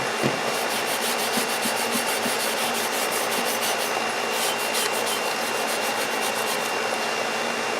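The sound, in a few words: sanding rust off an old axe head, coarse grit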